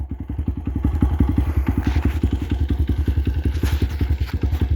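Honda CRF100 dirt bike engine running steadily after a cold start, a loud, close, rapid even thumping exhaust beat with no talk over it.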